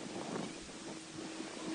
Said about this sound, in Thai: ลมแรงจนกล้องสั่นเลยครับพี่